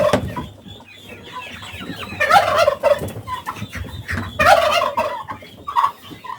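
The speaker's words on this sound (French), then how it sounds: "Nous avons là des dindons." Turkeys gobbling in two loud bursts amid softer clucking and murmuring from a flock nearby.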